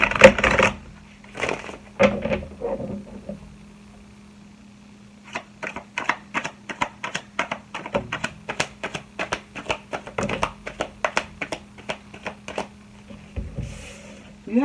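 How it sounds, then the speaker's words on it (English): A deck of cards being shuffled at close range, an opening flurry followed by a long run of crisp, rapid riffling taps, with no talking. "Shuffle the deck."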